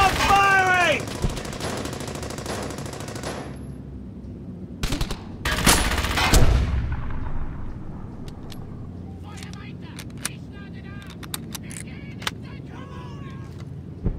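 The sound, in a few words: gunfire in a video game (Brothers in Arms: Hell's Highway)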